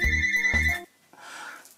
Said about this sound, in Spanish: Es que ya tenía que sonar el teléfono